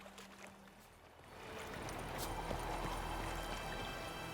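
A flowing stream in the video game The Witcher 3 starts as a faint trickle, then swells after a second or so into a steady, close rush of running water that holds alone to the end.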